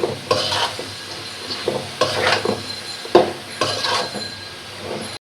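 Carrots, capsicum and cabbage are stirred in a sizzling pan for street-style chicken egg chow mein, with repeated scraping strokes of a spatula over a steady fry.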